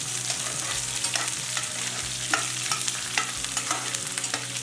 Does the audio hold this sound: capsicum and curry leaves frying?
yes